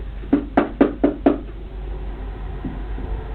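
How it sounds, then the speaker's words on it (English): Knuckles rap on a box in a hotel room, five sharp, close knocks in quick, even succession, then a faint, softer tap after a pause. "Did that just knock back? Yeah, like direct knock back."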